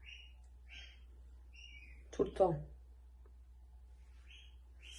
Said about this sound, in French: les oiseaux comme d'habitude